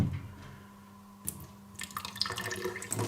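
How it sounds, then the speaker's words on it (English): Water sloshes and splashes as it is poured out of a broken Vitamix blender jar in a home kitchen, starting quiet and growing into a close, bubbling trickle over the last half of the clip. "So you see the water here swimming around. I pour a little bit of that out"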